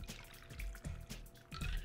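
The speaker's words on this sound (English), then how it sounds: "then we just pour" A shaken cocktail is poured over ice into a glass, with soft liquid splashing and faint clinks in short uneven bursts, close and quiet.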